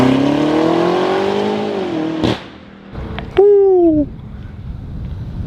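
A BMW M8 Competition launches hard off the line in all-wheel drive, its engine roaring up in pitch, a brief gap at the shift, then another loud rising revving pull that fades away.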